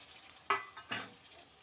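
Chopped tomatoes hit hot oil in two quick, splashy sizzling bursts, fairly faint and close, with a brief fading crackle after each.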